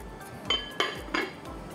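A lid clinks onto a pot of Teochew fish porridge with dried shrimp and dried squid, giving three distinct metallic clatters in quick succession, close and fairly quiet against near silence.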